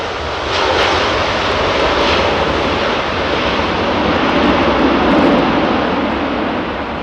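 A passenger jet comes in to land on runway 27R at London Heathrow, its engine roar loud and close and holding steady as it passes, with a faint swell toward the end.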